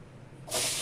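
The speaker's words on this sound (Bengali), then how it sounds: "এইবার ওই তেলেই কালো জিরে শুকনো লঙ্কা ফোড়ন দিয়ে দিলাম" Nigella seeds and dried red chilies hit hot mustard oil after fish heads were fried in it, setting off a sudden loud, bright hiss that starts halfway through and holds steady.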